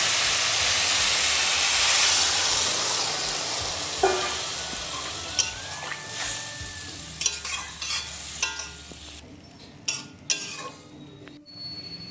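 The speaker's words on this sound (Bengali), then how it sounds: "এখন এই ঢ্যাঁড়সের মধ্যে আমি সামান্য কিছুটা জল দিয়ে দেবো" Water hits hot okra and fish heads in a pan with a loud, steady sizzling hiss that slowly settles, then gives way to scattered spoon scrapes and clinks against the pan.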